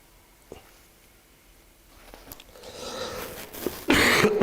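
A person coughs during a church sermon: a few faint isolated coughs at first, then heavier, louder bursts of coughing close to the microphone toward the end.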